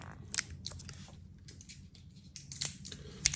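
Scissors snip and crinkle through plastic wrap around a pack of AAA batteries, giving a few quiet, sharp cuts and crackles close by against a faint background, with no talk.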